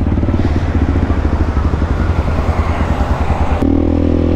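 Rusi KRY 200 motorcycle fitted with a Norifumi Rocket 4 aftermarket exhaust, revving hard and close with a throaty, pulsing burble, then settling into a steadier idle near the end.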